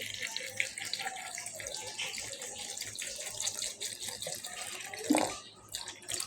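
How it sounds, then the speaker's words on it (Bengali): Cold water runs steadily from a tap or jug into a mixture of grapes and tamarind sauce for grape juice, a continuous splashing pour with a brief louder gush near the end. "আমরা এ পর্যায়ে দিয়ে দিচ্ছি এখানে আমাদের ঠান্ডা পানি"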